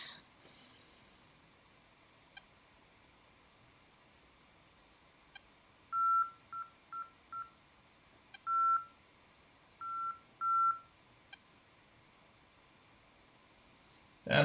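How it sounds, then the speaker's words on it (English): In the DCS flight simulator, the A-10C's radar warning receiver sounds a string of short electronic beeps in irregular clusters over a quiet cockpit hum, ending with a brief burst of noise. "our radar warning receiver is quite noisy"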